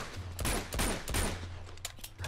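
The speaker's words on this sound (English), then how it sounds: "Some rapid fire right there." Rapid gunfire in the video game Uncharted 2: several quick bursts of close, loud shots in clusters with short gaps between them.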